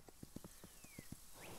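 Horse hooves clip-clop at a steady run in the video game Kingdom New Lands, a regular series of soft, close thuds over a quiet game backdrop, then a brief whinny-like tone near the end.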